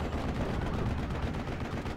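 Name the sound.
gun firing a round in video game Steel Division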